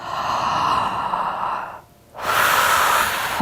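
A loud, close breath cycle during a side-lying diaphragm activation exercise, with a long airy exhale, a brief pause, then another long, rushing breath.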